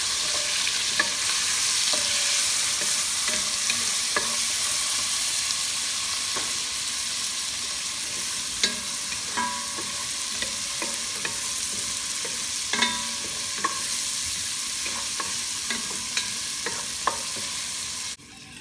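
Garlic and onions fry in a pot for clam chowder, a steady loud sizzle running throughout with repeated clicks and scrapes of stirring, stopping abruptly at the end.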